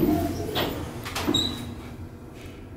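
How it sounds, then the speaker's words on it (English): Schindler Fast MRL traction elevator, built 2014, in Tikkurila, Vantaa, Finland: its car doors slide shut in a soft, moderately near glide with faint squeaky scraping and a couple of brief bumps, under quiet ambient hum and no talk. "Doors closing. Please mind the doors."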